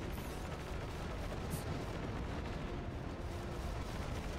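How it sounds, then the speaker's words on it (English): Rumbling bomb blasts from a bomber attacking a gunship in the video game Battalion Wars 2, a continuous dull roar of explosions with a brief sharp burst. "the bomber is trying to bomb my gunship"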